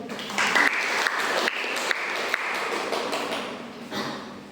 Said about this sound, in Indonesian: Beri aplaus untuk Mbak Afi